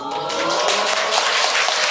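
Lecture-hall audience applause, a dense, steady wash of many hands clapping at full volume throughout, with no break or talk above it.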